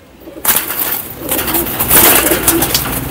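Pigeons coo in a loft holding young high-flying birds, the soft throaty calls rising and falling alongside scattered rustling and chatter-like noise, fairly close and continuous after a brief quiet start.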